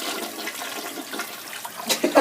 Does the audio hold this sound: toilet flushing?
yes